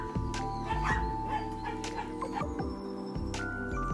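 A dog at an aquarium makes excited yips, whimpers and short barks at feeding time, loud and close, in an irregular stream of bursts with background noise.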